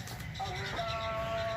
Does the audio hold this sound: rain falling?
no